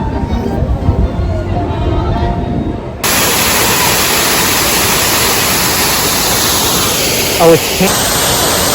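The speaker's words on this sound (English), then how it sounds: "It's a beautiful waterfall." Waterfall in the Canada Pavilion at Disney, a loud, steady rushing roar of falling water that starts abruptly partway through and continues unbroken, with a person speaking just before it begins.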